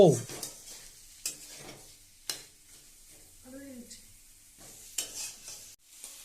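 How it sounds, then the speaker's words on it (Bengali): Katla fish belly pieces are stirred with spices in a kadai, producing a gentle sizzle broken by sharp spoon scrapes against the pan, with brief quiet gaps and a short murmured voice. "এটাকে আমরা কড়াইতে মশলার সাথে ভালো করে মিক্স আর আমরা ভালো করে মিক্স করব।"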